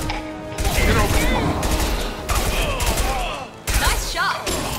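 Gunfire in the Mass Effect 2 video game, rapid bursts of loud shots in three or four clustered volleys with brief pauses, mixed with combat effects and background game sound.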